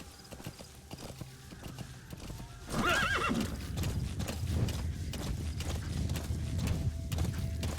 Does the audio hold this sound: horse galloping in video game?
yes